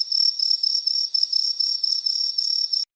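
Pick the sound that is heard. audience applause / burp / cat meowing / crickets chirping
crickets chirping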